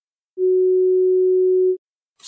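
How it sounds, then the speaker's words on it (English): A pure sine wave tone holds one steady pitch for about a second and a half, loud and clean with no overtones, then stops, followed by a brief soft noise. "Sine wave,"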